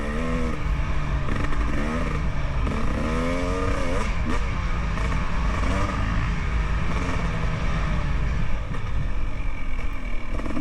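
Several dirt bikes ride a trail on private property, their engines droning steadily and revving up and down, close and continuous with no talk.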